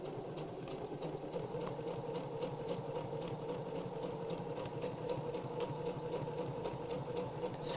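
A sewing machine stitches steadily around the curves of a reverse appliqué heart on a sewing machine mat, a continuous close mechanical whir with a fast even rhythm and no pauses.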